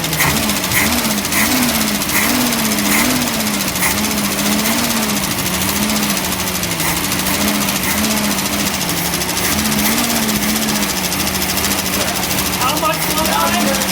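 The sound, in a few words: 1965 Ford Mustang engine running cold, carburetor untuned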